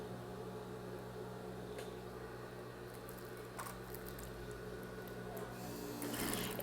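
Sewing machine stitching fabric strips into a rag rug, a quiet steady mechanical whir and hum running throughout with faint clicks and a slight swell at the end.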